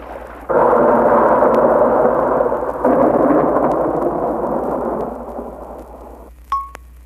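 Storm at sea with thunder, a loud sustained rumbling roar of thunder and rain that swells, then gradually eases and cuts off, followed by a short fading tone.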